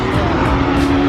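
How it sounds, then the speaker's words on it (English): A tuned car with a corkscrew exhaust at a car meet drones loudly and steadily with a low, buzzing exhaust note throughout. "Oh, it's got a corkscrew exhaust."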